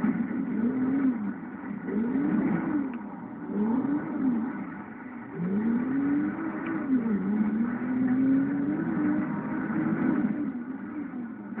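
Race car engine in GTA 5 revving steadily, its pitch rising and falling in repeated swells as it accelerates and eases off, loud and continuous throughout with no talk.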